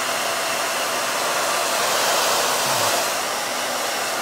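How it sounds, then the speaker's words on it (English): A hair dryer blows steadily onto an armchair while drying the upholstery after cleaning, a loud, even whooshing roar held close to the microphone throughout with only slight swells in strength. "bring an air dryer, hair blow dryer, or a fan is usually what I'll use"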